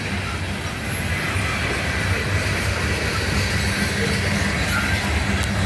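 A long CN ballast train with ET44AC and ES44AC locomotives rolls slowly by, its railcars keeping up a constant heavy rumble with clicking wheels and faint high wheel squeals, close and continuous with no speech.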